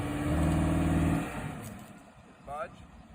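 A truck engine revs hard for about a second while straining to pull a 20,300-pound boulder on rollers, then drops away, and a person speaks over the fading engine.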